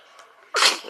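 One loud, close sneeze erupts after a brief breathy lead-in, then trails off.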